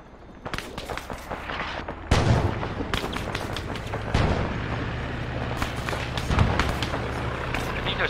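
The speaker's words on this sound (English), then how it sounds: "I think those mortars are getting too close" Mortar rounds in the military game Arma land nearby in heavy booming blasts, with big impacts around 2, 4 and 6.5 seconds over continuous crackling gunfire and low rumble; voices talk underneath.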